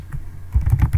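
Computer keyboard typing, a quick cluster of close, crisp key clicks in the second half after a short quiet pause.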